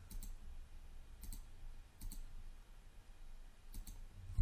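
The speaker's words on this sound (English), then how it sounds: "We're going to right click at an edge" Computer mouse clicks made while modeling in Maya 2017, a few crisp, quiet clicks spaced about a second apart over a low background hum, with no talking.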